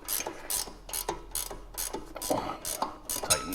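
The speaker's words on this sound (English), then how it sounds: "we'll take our 18mm ratchet and our T40 Torx" An 18mm ratchet tightens a front lower control arm nut on a 2013 BMW X5, giving several quick bursts of close, crisp clicking separated by short pauses.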